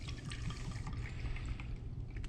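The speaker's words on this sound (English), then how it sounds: "going to pour this into our mixing glass" Rye whiskey poured into a mixing glass for a Boulevardier cocktail, a steady close liquid stream with light splashing running continuously and alone.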